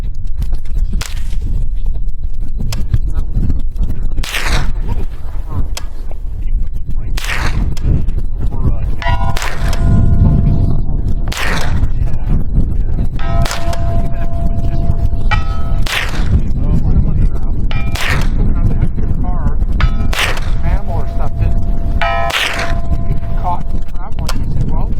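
Suppressed Ruger 10/22 rifle fires a string of shots at targets outdoors, each a sharp muffled crack with faint ringing metallic hits, spaced a couple of seconds apart over steady background noise.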